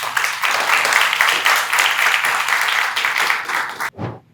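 An audience applauds at a university forum on road infrastructure, a dense, steady clapping that fills about four seconds and then stops abruptly, followed by a brief voice.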